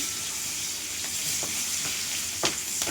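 Green chillies dropped into a hot frying pan with oil, bay leaf already in: a steady, loud sizzle and hiss throughout, with small crackling pops near the end.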